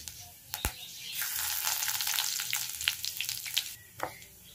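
Nigella seeds and dried chillies frying in hot oil, a sharp knock, then a bright crackling sizzle swelling for a couple of seconds with a few stirring clacks before it settles.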